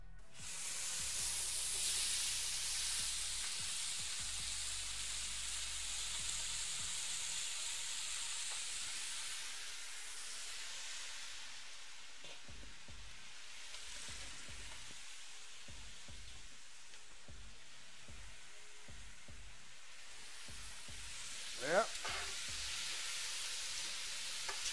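Vegetables hit a hot pan for red wine braised short ribs, a loud broad sizzle at first that eases into softer frying with scattered stirring clatter and a brief clink near the end.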